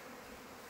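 Honeybees from a newly installed package buzz in a dense, steady hum, close and fairly quiet, with no voices.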